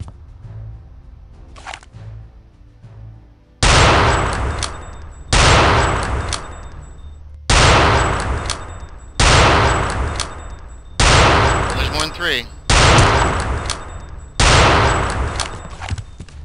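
Bursts of gunfire from Return to Castle Wolfenstein, the video game: seven loud, evenly spaced blasts, each ringing for about a second, follow a few faint thuds, with no talk over them.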